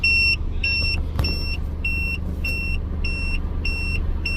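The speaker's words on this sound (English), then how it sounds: "let's see if it stops beeping" A Tymate TM8 tire pressure monitor sits inside a car and gives a steady series of short, high electronic beeps, about eight evenly spaced pulses over a low engine hum, with no talk.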